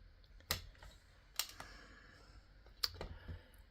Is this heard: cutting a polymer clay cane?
yes